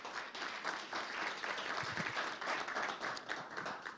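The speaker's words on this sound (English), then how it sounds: "Give yourselves a good round of applause." Audience applause at a future skills and technologies conference, a steady wash of clapping at moderate level lasting several seconds without a break.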